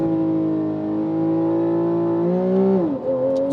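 A Porsche 911 GTS of the 991.1 generation launches with traction control on, its engine roaring close and loud in a steady rising pitch before a brief dip and recovery as it shifts gear.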